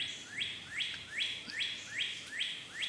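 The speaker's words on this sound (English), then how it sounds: "is that gonna bother you that there's a bird chirping in the background?" A small bird chirps in the background, repeating a bright rising call about every half second, seven times in a row, fairly faint against quiet surroundings with no talking.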